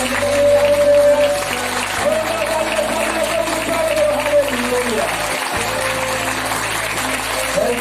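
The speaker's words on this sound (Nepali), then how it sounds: "ताली गरिदिनुहोस् प्रभुको मेरो प्रभुलाई।" A worship service congregation applauds the Lord, a broad crowd of clapping with some cheering and whoops. A sustained sung or spoken tone runs beneath it and a voice carries over the top throughout.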